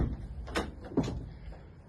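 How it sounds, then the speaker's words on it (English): Ford Transit van doors being worked during a vehicle inspection: two or three close, moderately loud clunks and latch sounds within a couple of seconds, with no talking. "While we're here, we'll just check the doors over."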